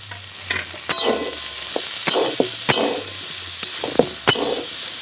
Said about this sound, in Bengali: আবারও সব ঝিঙে আর আলু একসঙ্গে ভালো করে ভেজে নেব।